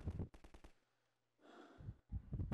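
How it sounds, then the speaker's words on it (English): Gunfire from Combine soldiers in Garry's Mod on a snowy map, loud rapid bursts of shots at the start and end with a quieter gap between. "More of them are shooting at me."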